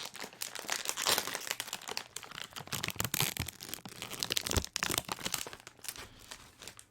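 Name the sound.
opening a crinkly snack package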